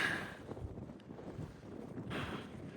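Strong wind in a mountain canyon buffets the microphone in rough, continuous gusts, with a louder rush near the end and no talking.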